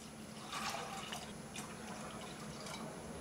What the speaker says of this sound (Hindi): अब नमक डालेंगे इसमें 1/2 चम्मच और 2 ग्लास इसमें पानी डाल देंगे